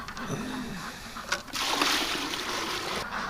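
Water splashes and pours into a container to top up a ducks' water supply on a winter evening, a close burst of pouring and splattering after a brief gap, with a voice faintly audible early on.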